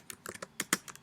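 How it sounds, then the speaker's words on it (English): Quick typing on a computer keyboard, about seven crisp key clicks in one second, close and clear with no talking. "so I would type those words here"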